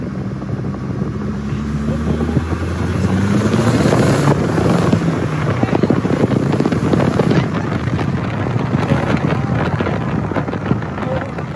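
A Volkswagen GTI with about 130,000 miles runs after a Seafoam treatment, its exhaust giving a steady, rumbling drone with heavy wind buffeting on the microphone and no talk.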